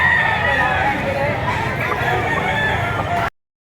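At the Lipa auction market, a rooster crows amid steady crowd chatter and market bustle, the noise cutting off abruptly near the end.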